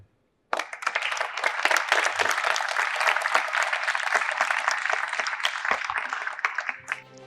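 An audience at a youth Model United Nations event bursts into sustained, dense applause that starts abruptly and continues loud and steady for several seconds before tapering at the end.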